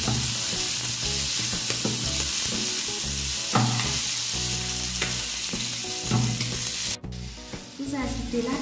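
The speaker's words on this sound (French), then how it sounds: "vous ajoutez les carottes. Et vous faites revenir le tout." Carrots and other vegetables sauté in butter in a pan, giving a steady, loud sizzle with occasional stirring and scraping sounds, close up and continuous.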